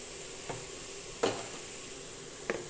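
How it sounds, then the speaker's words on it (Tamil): Mutton sautés in a pan with onion, ginger and garlic for a butter beans mutton curry. A soft continuous sizzle runs under three brief clinks of a stirring spoon. "இந்த வெங்காயத்துலையும் இஞ்சி பூண்டுலையும் நல்லா வதங்கட்டும்."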